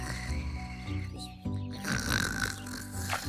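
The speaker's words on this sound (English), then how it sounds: "It sounds like someone snoring. And it's coming from that bush." A cartoon character snores from inside a bush, slow rumbling snorts with a tonal, drawn-out voiced quality, two or three breaths over a music bed, close and moderately quiet.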